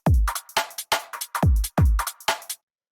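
A Future Garage drum group plays together as a processed beat: deep booming kicks with bright snare and hat hits in a syncopated pattern, loud and up front, stopping abruptly near the end.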